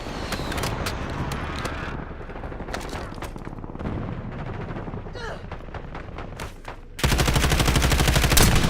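Gunfire in Black Ops 6 Warzone crackles in rapid bursts and single shots, fairly close with wind noise underneath, swelling into a dense, loud burst of automatic fire near the end.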